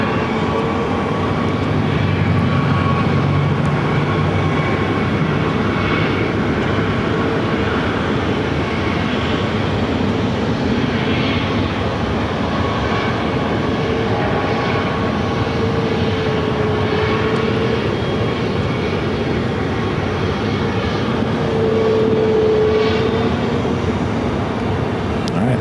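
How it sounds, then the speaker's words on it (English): A Pilatus propeller aircraft takes off on runway 8 at Phoenix airport, a steady broadband engine roar holding loud and constant throughout with a faint drone rising over it, no talk audible. "Do I actually hear a takeoff happening? The Pilatus is going to be taken off."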